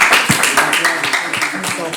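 An audience at a provincial student quiz final claps for the winning team, a dense burst of hand claps heard right up close under a loud announcer's voice.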